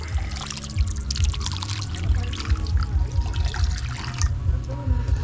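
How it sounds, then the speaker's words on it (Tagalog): Water pours steadily into a cooking pot holding pork ribs, a continuous close splashing gurgle lasting several seconds with no voices. "lalagyan na natin ng tubig"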